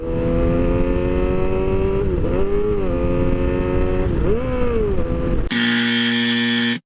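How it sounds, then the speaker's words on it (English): A motorcycle engine revs steadily with the clutch pulled in, a droning pitch rising and falling in a couple of throttle blips, then cuts to a sharper, higher buzzing tone. "new riders have a tendency to give it throttle while the clutch is still pulled in"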